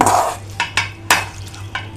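Indian beans curry scooped from a cooking pot into a serving bowl, four or five distinct metal-spoon scrapes and clinks spaced through the moment, close and loud, no talking.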